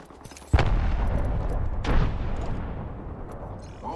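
A frag grenade goes off in Apex Legends with a sharp, heavy blast, then a long rumbling decay and a second thump, loud and close amid quieter game ambience.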